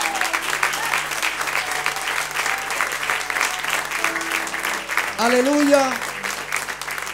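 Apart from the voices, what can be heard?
church congregation applause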